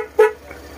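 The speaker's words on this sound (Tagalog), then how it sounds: "Yeah, this is the loud horn." A loud aftermarket horn on a Suzuki Burgman Street 125 scooter gives one short, close toot, then fades into quiet background hum.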